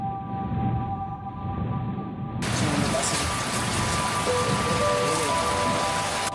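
Steady rain falls in the Bandarban hills of Bangladesh, a continuous dense hiss that grows brighter and heavier partway through, with no talk.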